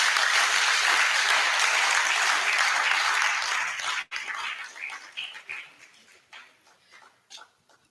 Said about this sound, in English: Let us give ourselves a big hand clap for being here today.